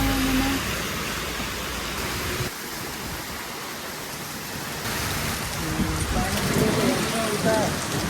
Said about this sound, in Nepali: कस्तो हेर्नु कति ठुलो पानी आएको